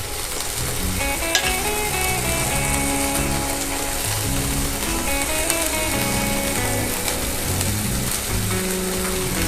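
Ginger-garlic paste and chili paste hit onions already fried in mustard oil with black cumin for a Bengali aloo dum; a loud, steady sizzle and crackle fills the pan with light stirring clatter and no talk.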